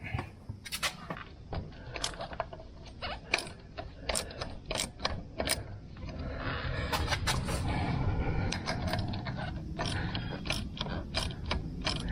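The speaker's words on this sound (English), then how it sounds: "I'm gonna have to take this screw loose to bleed it" Ratchet loosening a bleed screw on a John Deere 855 tractor: repeated sharp clicking ratchet strokes in irregular bursts, close and fairly quiet, with a steadier mechanical whir in the middle.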